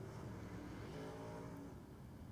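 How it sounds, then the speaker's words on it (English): A dirt-track UMP race car drones on at Lanier during a yellow-flag caution, its engine steady and moderately distant, with a faint pitch glide as another car passes by, and no talk. "So cars will again come back down to a slower pace"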